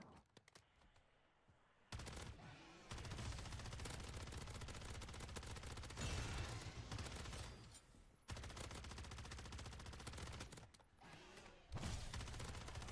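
Sustained bursts of automatic gunfire from a video game weapon, loud and rapid, in several long volleys separated by brief pauses.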